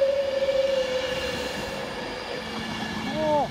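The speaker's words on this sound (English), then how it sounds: "Virgin train coming into Wigan North Western." A Virgin train pulls into Wigan North Western station, its steady rumble and rail noise running throughout with a long tonal whine, then a brief wheel squeal near the end.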